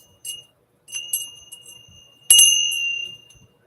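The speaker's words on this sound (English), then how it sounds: "these came from the Great Wall of China, these bells and this attachment" Small bells from the Great Wall of China jingle on an attachment in a few bright, ringing bursts, the last one louder with a sustained shimmering tone that slowly fades, close and clear without speech.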